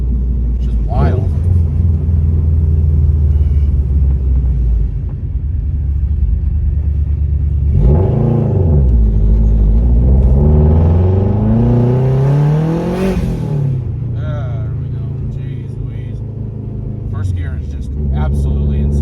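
A 500+ horsepower Subaru Forester XT on a pump gas tune cruises with no boost, its loud exhaust droning steadily throughout with engine pitch rising and falling, while people talk over the rumble inside the car.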